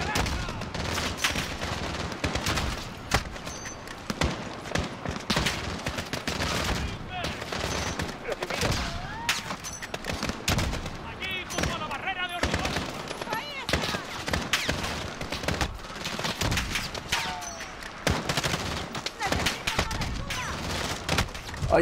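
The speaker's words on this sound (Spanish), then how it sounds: "Aquí te caen los tiros como si fuera esto agua de mayo" Gunfire in Call of Duty Modern Warfare: dense, relentless volleys of rifle and machine-gun shots crackling without pause, loud and close, with someone speaking over the firefight at times.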